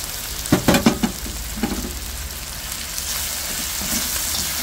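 Pork dropped into a hot pan for pancit guisado, a few sharp clatters and hisses at first, then a steady close sizzle of frying meat.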